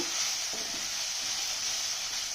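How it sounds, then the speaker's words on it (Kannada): Onion, tomato and chili frying over a medium flame for goat leg soup, a steady close hissing sizzle with a few faint stirring scrapes. "ಮೀಡಿಯಮ್ ಉರಿ ಇಟ್ಕೊಂಡು ಈ ಥರ ಹುರಿಬೇಕು."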